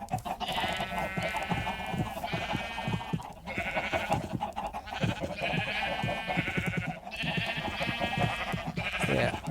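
Minecraft sheep bleat repeatedly in a steady run of short, wavering calls over busy game sounds and background music, fairly loud with no talk.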